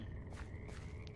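Frogs croaking in Minecraft, a few soft croaks heard over a dense, steady background ambience, faint and at a middle distance.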